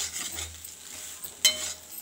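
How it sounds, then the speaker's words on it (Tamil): Leftover cooked rice being stirred into sautéed ingredients in a frying pan, a soft scraping and faint sizzle with one sharper clink of utensil against pan midway. "இப்படி போட்டு நல்லா கிளறி விட்டுறணும்"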